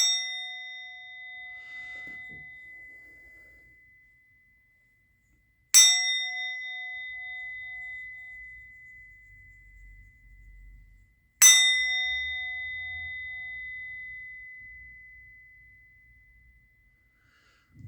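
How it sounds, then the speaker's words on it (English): A metal bell struck three times about six seconds apart, each stroke a bright clang that rings out with a long, slowly fading tone in an otherwise quiet room, no talking. "I'm going to ring the bell."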